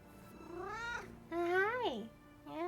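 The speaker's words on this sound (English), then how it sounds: "Hi, Kitty" A cat meows several times in a row, with rising and falling drawn-out calls, close by and fairly loud, heard alone without talk over it.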